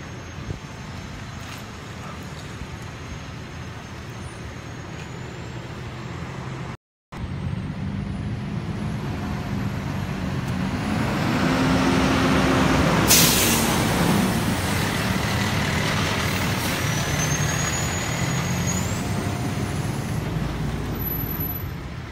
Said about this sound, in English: Got a fire rescue vehicle coming through.